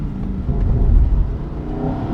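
A Lamborghini Huracan supercar, raised for off-road use, drives through mud with a low, steady engine rumble that swells slightly mid-way and stays close, with no voices.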